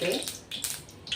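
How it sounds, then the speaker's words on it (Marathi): Oil is poured into a hot pan in a brief, close, splashy trickle that comes in a few uneven bursts. "तेल टाकून घेतोय."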